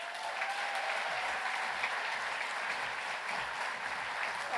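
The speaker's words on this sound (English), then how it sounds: "Join me in giving them a big round of applause." An audience at the 2024 Jack Layton Progress Prize ceremony applauds the prize winners with a thick, even wash of many hands clapping that holds steady throughout, slightly distant and without talk.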